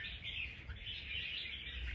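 A caged red-whiskered bulbul trapped in Lạng Sơn chirps faintly and continuously in a thin, warbling run, with low background rumble and no voices.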